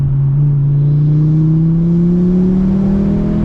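A 500 bhp VW Mk6 Golf R fitted with an Audi RS3 2.5L engine and DQ500 gearbox drones loudly from close by, its engine note climbing steadily and smoothly in pitch on a twisty road, with no talking.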